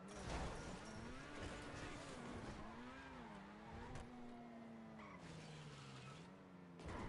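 A car in the video game GTA V skids at length, its tires squealing in a long wavering whine that rises and falls over engine noise, loud and close, with no talking.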